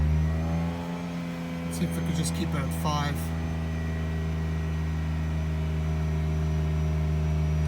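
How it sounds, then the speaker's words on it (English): Mazda RX-8 rotary engine idling with a suspected misfire, a steady humming drone held throughout while someone speaks briefly over it. "By the way, guys, this is me idling it."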